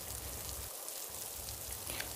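Steady rain pours down on grassland where lions shelter, a dense, even hiss of falling drops that holds constant throughout, with no voices.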